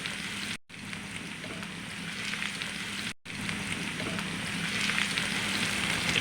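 Chopped onion and garlic sizzle steadily in hot oil while being stirred until lightly browned for a bitter gourd and potato fry, a dense continuous crackle with two brief cuts, growing slightly louder toward the end.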